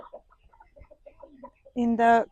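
Mulard ducks on a Ukrainian village farm give soft, scattered, faint calls, followed by a brief louder, voice-like burst at the end.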